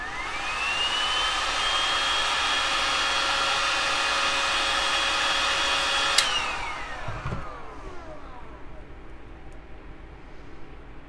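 A heat tool warms the corner of an old attache case during a paint and decoupage craft, blowing a steady whining whoosh that rises in pitch and then spins down as it switches off.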